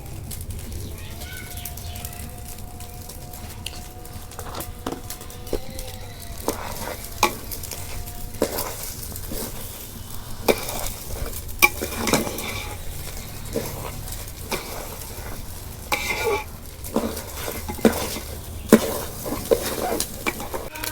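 Rice frying in a saucepan for beef biryani gives a soft sizzle under repeated scraping stirs of a spoon against the pan, with birds cooing faintly in the background.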